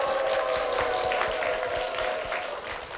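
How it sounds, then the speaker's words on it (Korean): Applause from a church congregation welcoming a man to the front for a testimony, a steady wash of many hands clapping at moderate distance, continuous and even throughout with no voices over it. "박수로 모시겠습니다"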